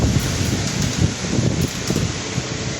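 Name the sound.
very strong wind during Typhoon Uwan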